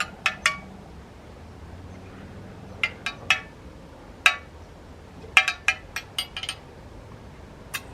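A spoon clinks against a glass while homemade lemonade is stirred, giving sharp, bright taps in irregular clusters, close and clear, over a quiet background.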